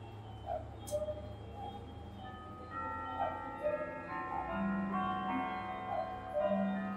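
A walnut Howard Miller grandfather clock with triple chime sounds its Whittington melody, a steady run of soft, ringing tuned tones that linger and overlap in a quiet room.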